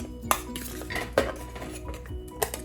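Steamed jackfruit pieces dropped into a metal cooking vessel, giving several sharp clinks and scrapes of a utensil against the pot at irregular intervals, close and fairly clear with no talking.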